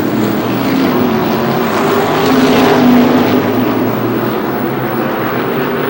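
Race cars at Star Speedway in New Hampshire roaring wheel to wheel in a battle for the lead, a loud steady engine drone that swells slightly as the pack passes, with no voices.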